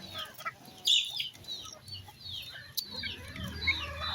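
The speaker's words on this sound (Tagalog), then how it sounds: "Kaso lang ayaw umalis yung mga manok na to ha." Backyard chickens, a Bisaya native breed, cluck and squawk in short scattered bursts close by, with faint rustling beneath, no voices.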